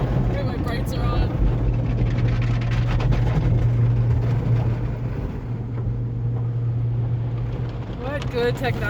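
Automatic car wash machinery runs over a car, a steady loud droning rumble with sloshing water and brush noise throughout, while people talk inside the car over it.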